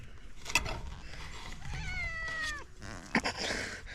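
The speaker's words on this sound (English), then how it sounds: "Look at that cat. It's a crazy cat." A cat lets out a long, drawn-out meow in the middle, with its pitch falling, and makes shorter vocal sounds around it. The cat is moderately close, against faint background noise and scattered handling knocks.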